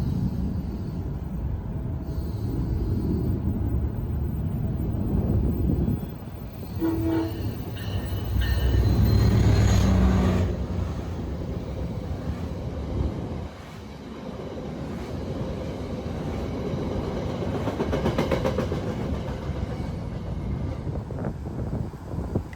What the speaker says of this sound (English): First up was a southbound VRE train headed to its next stop in Alexandria.